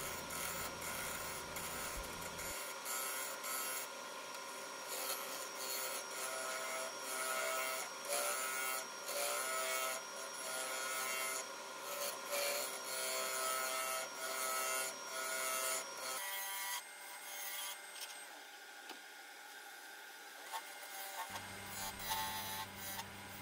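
A bowl gouge cuts into a spinning wooden bowl on a lathe while hollowing out a piece with resin-filled cracks, a continuous scraping, rasping roar with shifting tone that runs throughout.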